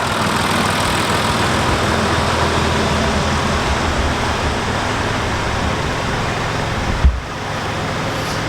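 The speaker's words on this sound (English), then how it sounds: "I paused because there was an old 135 industrial going past then" An old 135 industrial tractor passing on a farm, a steady loud low engine rumble close by, with a brief thump near the end before the drone continues.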